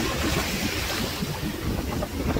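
Ocean waves at a beach give a steady, loud, broadband rush of surf mixed with heavy wind buffeting on the microphone, with no voices.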